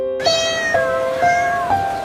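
A hungry kitten in a busy market meows four times in a steady sequence, each call clear, tonal and close, over faint background noise.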